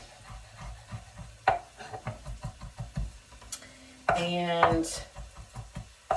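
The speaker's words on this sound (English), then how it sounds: "We're just dicing them really little because we're going to put it in there for added flavor." Knife dicing soft, cooked, peeled vegetables very small for lentil soup, a run of quick close taps on a cutting board, with kitchen clatter and a brief voice.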